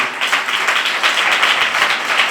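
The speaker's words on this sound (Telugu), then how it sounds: "గట్టిగా చప్పట్లు కొట్టండి" An audience at an outdoor Christian gospel gathering claps loudly and continuously, a dense, close wash of applause with no voices over it.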